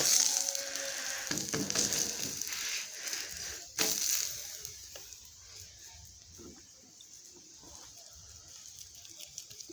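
Jowar flour thalipeeth sizzling and frying in oil on a hot pan, a steady crackling hiss that swells briefly near the start and again around four seconds, then settles into a quieter, continuous sizzle.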